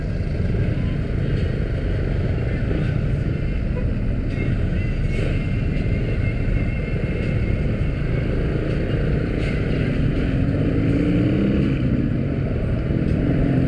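A small dual-spark motorcycle engine drones loudly and steadily while riding on a cloudy day, with constant wind and road rush over the full stretch.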